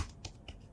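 Enter key pressed on a computer keyboard, heard as a few sharp, close clicks spaced apart with quiet between them.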